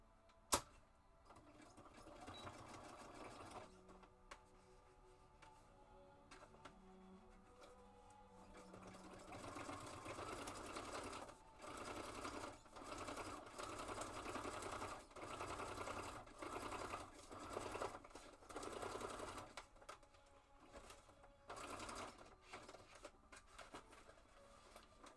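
Close, steady whir of a sewing machine stitching through tough multimedia paper for a journal binding, running in long bursts with brief stops and rhythmic needle clatter.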